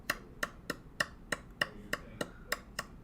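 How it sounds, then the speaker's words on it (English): A run of about ten sharp hand claps, evenly spaced at a moderate pace, dry and close with no voices. "Hand claps."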